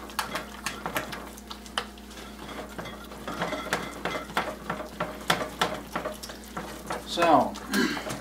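Bread dough and flour being stirred together in a bowl, a series of rhythmic scraping and thumping strokes, close and fairly loud, running steadily throughout.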